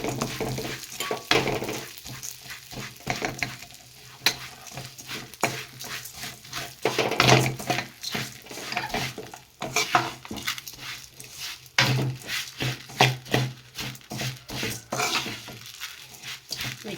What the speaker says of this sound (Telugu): అటుకులు కూడా వేసేసుకుందాం రెండింటిని బాగా ఫ్రై చేసుకుందాం నేను సిమ్లోనే పెట్టి ఫ్రై చేస్తున్నాను